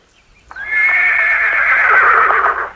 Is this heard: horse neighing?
yes